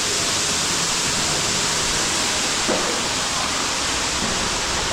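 A steady, dense rush of falling water from a cave waterfall in Bali fills the scene evenly from start to finish, loud and unbroken.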